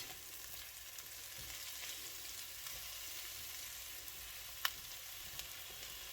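St George's mushrooms and wild garlic fry in a pan, a steady close sizzle with soft crackle and one sharp pop near the end, no talking.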